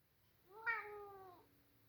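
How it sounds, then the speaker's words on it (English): A pet cat gives a single clear meow, rising then falling over about a second, close and alone in a quiet room. "I apologize for my cat if my cat was a little bit of a bothersome."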